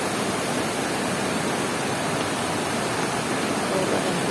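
Steady broadband rush of water flowing over rocks at Irpu Falls, a continuous close roar with no breaks.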